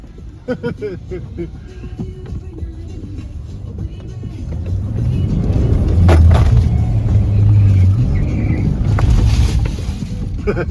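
A Jaguar XF SV8 sliding on a slippery surface, with engine rumble and tyre noise swelling louder in the middle and holding near, under laughter and chatter nearby.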